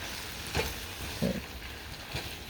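Menudo being stirred in a pan at home, a soft scraping stir with a low sizzle underneath and a few brief louder clinks, close and fairly quiet, no talking.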